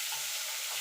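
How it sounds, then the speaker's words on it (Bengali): Vegetables stir-fried in a pan for egg chowmein, a dense, even close sizzle with light stirring throughout, no talk. "একটুখানি নাড়াচাড়া করে নেব, মানে একদম কড়া করে ভাজবো না, একটু নরম হয়ে গেলেই হবে।"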